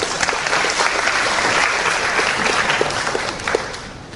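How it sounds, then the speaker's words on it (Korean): A lecture-hall audience breaks into steady, dense applause that carries on evenly from start to finish, with no talking over it. "이때 박수 한번 쳐야 돼요"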